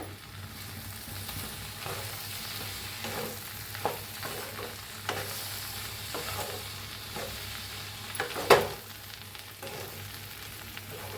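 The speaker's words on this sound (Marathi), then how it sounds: "भेंडी त्याच्यात कोथिंबीर घालून घेऊया मिक्स करूया" Okra sizzles in a pan as coriander is stirred through it, a steady frying hiss broken by soft scraping strokes and one sharper clatter near the end, close and alone.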